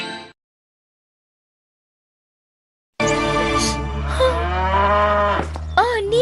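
Cattle in a cowshed give a loud, drawn-out moo close by, starting after a brief sound and nearly three seconds of silence, with a shorter call near the end.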